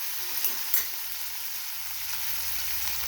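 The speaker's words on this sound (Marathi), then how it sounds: "आता पहिले भेंडी टाकून घेऊ, टोमॅटो नंतर टाकायचे। हे बघा, 2 मिनिटं भेंडी शिजून घेऊ," Okra sizzling in a pan for a Maharashtrian rassa bhendi, a steady frying hiss with a couple of light stirring knocks near the start, close and fairly quiet.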